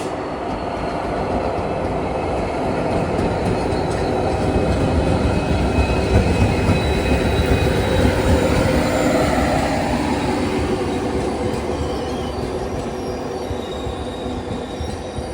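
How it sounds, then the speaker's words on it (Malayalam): A diesel-hauled Vasco da Gama to Yesvantpur express train thunders past up close, a loud continuous roar of engine and wheels with metallic squeals, swelling midway then slowly easing. "ഗോവയിലെ വാസ്കോഡ ഗാമയിൽ നിന്നും യശ്വന്ത്പൂരിലേക്ക് പോകുന്ന എക്സ്പ്രസ് ഇതാ കടന്നു വരികയാണ്."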